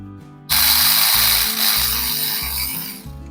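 A power tool on a Mini Cooper S R52 alternator bolt kicks in abruptly with a loud, continuous whirring whine over low mechanical pulsing, running for about three seconds before cutting out.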